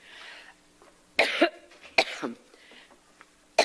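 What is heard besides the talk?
coughing fit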